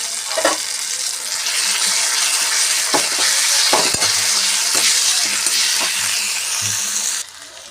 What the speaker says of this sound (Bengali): ভালো করে এটা তেলের সঙ্গে মিশে যাবে এবং ভালো করে ভেজে নেবো